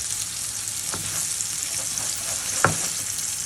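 A whole salmon fillet frying in a touch of oil on a stovetop gives an even, close hiss of sizzling, broken by a couple of soft knocks from the pan.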